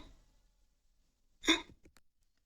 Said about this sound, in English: To hiccup.